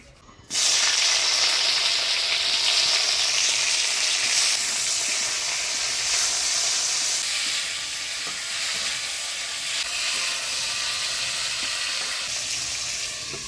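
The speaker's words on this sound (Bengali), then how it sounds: "এবার এই করলাটা তেল দিয়ে ভেজে নিব।" Bitter gourd pieces, rubbed with turmeric and salt, sizzle steadily in hot oil in a home kitchen, a loud, continuous crackling hiss with faint stirring that holds for the whole stretch without talk.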